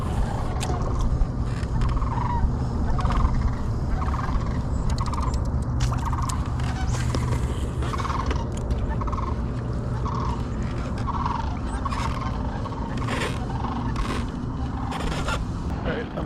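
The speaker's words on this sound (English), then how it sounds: "These cranes sound so cool." Cranes calling along the Wisconsin River during a kayak fishing tournament, a regular series of repeated rattling calls in the mid-distance over a steady rush of water and wind.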